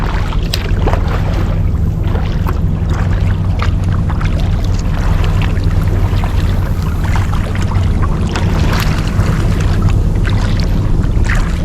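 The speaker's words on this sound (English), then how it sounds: "here's that wake from that boat" Loud, continuous rumble of a boat motor with water rushing and wind buffeting the microphone as the hull crosses another boat's wake and a 4-foot swell in rough water.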